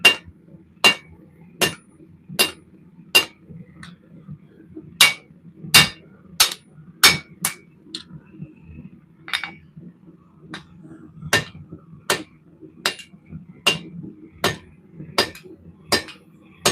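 Hammer blows on a big, heavy old piece of steel being forged in a shop, about twenty sharp ringing metallic strikes in an irregular rhythm, some in quick pairs, over a low steady background hum.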